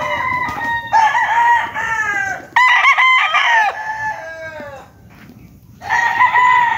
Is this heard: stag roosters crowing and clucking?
yes